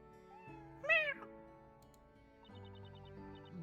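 A single short cat meow from the video game Professor Layton vs Phoenix Wright, rising then falling, heard over soft looping game music with ticking chimes.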